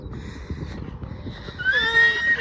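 Donkey galloping in a field: hoof thuds patter irregularly up close, then a loud braying call rises and holds near the end.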